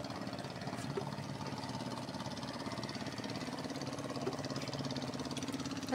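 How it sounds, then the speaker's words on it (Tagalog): Motorcycle engine idling, on a machine being checked for hard starting and spark plug trouble in the rainy season, a steady low mechanical chug with a faint rapid knock, fairly quiet and continuous, no talking. "Motor na yun."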